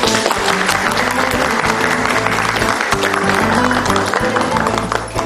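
Wedding guests in a Turkish comedy scene applaud as the young couple are invited to dance, a full continuous wash of clapping over music, loud and close throughout.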